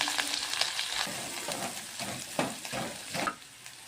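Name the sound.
cumin, chili and crushed garlic frying in a pan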